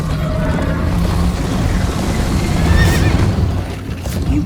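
Horse neighing and whinnying over a continuous rumble of galloping in the Minecraft Story Mode video game, loud and steady throughout the chase with no voices.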